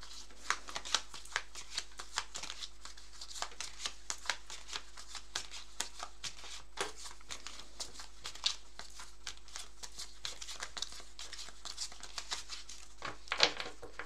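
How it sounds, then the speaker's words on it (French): Cartomancy cards being shuffled by hand for a quick reading, giving a close, continuous run of crisp riffling flicks and soft slaps, with a louder burst near the end and no voices. "je vais terminer la vidéo en faisant un petit tirage rapide de cartes"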